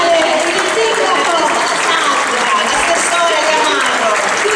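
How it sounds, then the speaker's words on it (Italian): A theatre audience in Canosa di Puglia applauds steadily, a dense, continuous wash of clapping that stays loud and even from start to finish. "un grande applauso va a Saverio Luisi"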